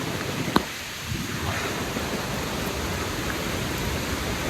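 Irpu waterfall in Brahmagiri, Coorg, rushes in a broad, steady roar during monsoon rain, with a single sharp knock early on and no voices over the continuous water noise.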